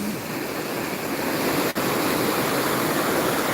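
Water flowing strongly near a Panchakarma centre below a tall hill, a loud, steady broadband rush with no pauses.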